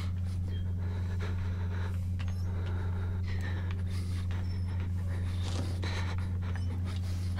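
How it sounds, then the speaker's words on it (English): Heavy, rhythmic panting from a character in the horror game Outlast Whistleblower, steady throughout over a constant low ambient hum. "Now my guy's breathing heavy, okay."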